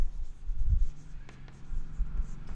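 Chalk or a marker writes on a board in an economics classroom, making soft scratchy strokes and low taps that rise and fall in short bursts.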